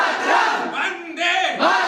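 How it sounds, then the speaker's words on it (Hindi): A large audience at a poetry recital shouts a patriotic chant in unison, several loud, rousing bursts in quick succession, close and filling the room. "मनोज पांडे का जयकारा तो एक बार लगा दीजिए"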